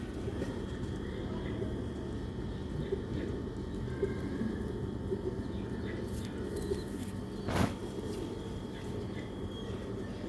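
Old-breed pigeons cooing softly in a loft, low repeated coos over steady background hum, with a brief louder bump partway through.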